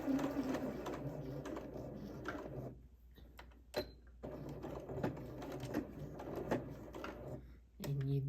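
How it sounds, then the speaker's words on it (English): A domestic sewing machine stitches a pleat in fabric, running in bursts of fast rhythmic whirring with brief pauses and clicks between passes as the stitches are locked in, close and fairly loud. "so I'm going to go ahead and stitch my pleat"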